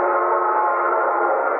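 A steam-era train sounds its whistle on the line, a steady sustained tone held evenly for nearly two seconds, fairly loud and alone with nothing else over it.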